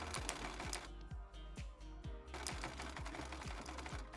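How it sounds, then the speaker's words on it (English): A sewing machine stitches a dart in fabric, running in fast rhythmic mechanical bursts with a brief slowdown and pause mid-way before resuming, close and steady, without talk. "Start by sewing just a few stitches. Then kick it in reverse and sew back over that line"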